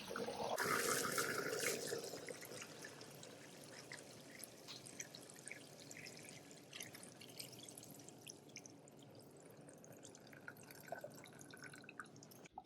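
Water draining from the tank of a Tom-Cat Carbon floor scrubber into a floor drain, a steady trickling, dripping flow that starts with a louder gush and then settles into a soft continuous run.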